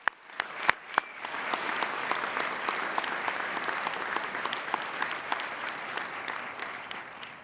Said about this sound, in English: Please join me in giving a resounding round of applause for those volunteers.